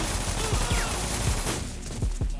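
Rapid video game gunfire in 50 Cent Bulletproof, a close, dense string of sharp shots fired in quick bursts over a constant noisy background.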